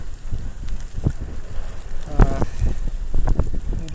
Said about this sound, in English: The wind is getting pretty heavy